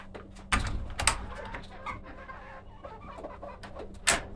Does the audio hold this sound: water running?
no